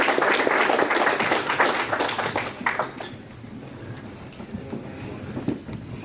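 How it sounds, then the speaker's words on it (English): An audience at a meet-and-greet with elected officials claps. The applause is loud at first and then thins out over a few seconds. "let's give him a round of applause"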